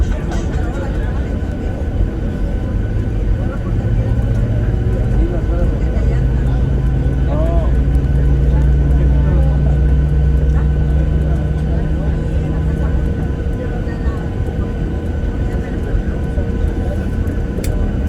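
A United airliner builds speed on its takeoff run, a loud, steady engine roar that climbs in pitch with a low rising drone, heard from inside the cabin with people talking over it throughout.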